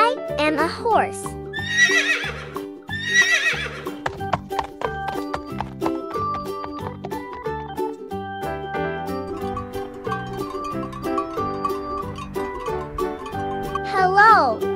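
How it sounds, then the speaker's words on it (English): A horse at a farm neighs loudly twice in quick succession near the start, followed by a long stretch of light music and clip-clop, with a final whinny at the end. "Hello, I am a horse."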